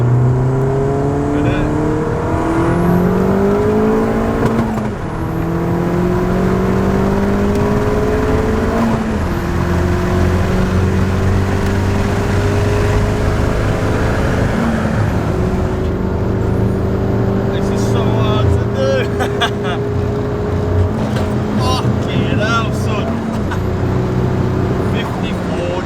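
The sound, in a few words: car engine accelerating during test pulls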